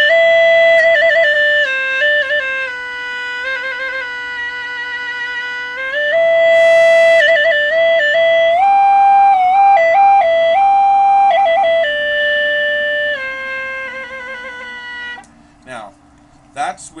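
A three-pipe gourd flute played with two pipes, blown steadily to give a haunting, saxophone-like reedy tone, sustaining melodic notes that step between pitches for about fifteen seconds before trailing off into brief noises.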